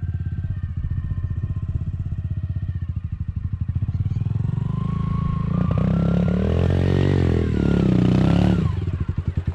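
A motorcycle engine pulls under a steady open throttle, its pitch and loudness climbing and holding strong near the listener before easing off at the end. No one speaks over it.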